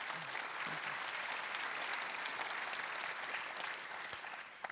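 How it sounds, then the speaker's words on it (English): An audience at a Parkinson's conference keynote applauds to welcome speakers, with dense, sustained clapping throughout that eases slightly near the end. "Let's have a nice round of applause for them."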